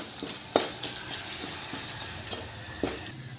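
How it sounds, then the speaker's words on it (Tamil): Urad dal fries in oil with a soft continuous sizzle, broken by several sharp scrapes and clinks of a spoon stirring in the pan. "உளுந்து கொஞ்ச நேரம் அப்படியே எண்ணெயிலே வறுபடுத்தோம்"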